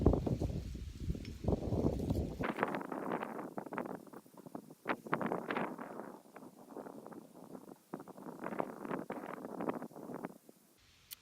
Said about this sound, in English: it's like the wind is out to get me right now